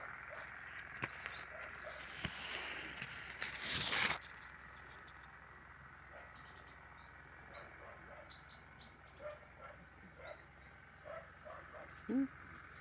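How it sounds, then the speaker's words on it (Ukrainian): Small birds chirp and tweet outdoors on an autumn day, their short, scattered calls coming faint and from a distance over a soft background hiss, with a brief rustle partway through. "Пташки десь співають."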